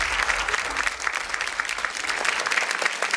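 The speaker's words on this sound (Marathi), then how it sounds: "एकदा जोरदार टाळ्या होऊन जाऊ दे, जोरदार टाळ्या" A studio audience on a Marathi TV game show applauds loudly and steadily, with dense clapping that holds throughout and no talk over it.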